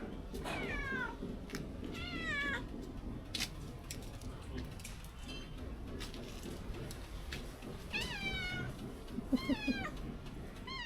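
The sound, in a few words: cat meowing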